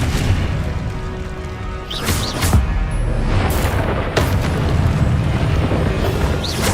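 Booming explosions from the Confringo fire spell in Hogwarts Legacy, several loud bursts at uneven intervals over a dense, rumbling game soundscape.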